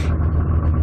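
A Yamaha SX Viper snowmobile engine runs at a steady, loud, close rumble, a low continuous drone held for under a second with no voices.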